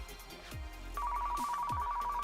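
New job alert ringtone in Car Mechanic Simulator 2015, a sustained electronic tone ringing steadily and fairly loud over soft background game sounds, continuing to the end.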